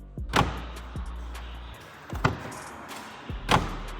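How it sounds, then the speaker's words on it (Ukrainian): A car door with added sound-deadening insulation shuts with a solid thunk, followed by a few more lighter knocks and taps spaced over several seconds. "Зацініть, як дверка зачиняється"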